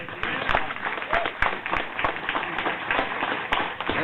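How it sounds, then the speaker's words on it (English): Audience applause in a board room, a moderate crowd clapping steadily for about four seconds, the sound slightly muffled and band-limited as if picked up by a room microphone. "Let's give them a round of applause."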